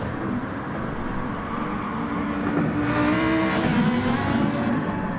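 A race car in a racing video game at Autodrome Lago Maggiore, its engine droning steadily and rising slightly in pitch as it holds pace on track, loud and continuous.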